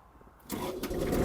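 A Kubota GL-200 Japanese mini tractor engine catches after a brief quiet moment, starting easily and rising at once into a steady, fairly loud running rumble with no talk over it.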